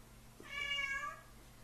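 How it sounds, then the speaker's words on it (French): A single small cat gives one clear, mid-length meow, close and fairly quiet, over a faint steady background hum. "Oh, le petit chat."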